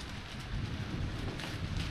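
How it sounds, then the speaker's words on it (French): Steady rain pours during a thunderstorm over a housing estate with tall trees, a dense, continuous wash of noise with a low rumbling undertone and no voices. "J'espère qu'on entend la pluie."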